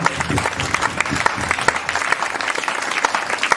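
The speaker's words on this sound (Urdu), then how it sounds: "پہلے ہم سب خدا کے جلال کے لیے زوردار تالیاں بجائیں گے" A church congregation claps loudly and steadily together, dense and continuous applause filling the room for a few seconds without any talk.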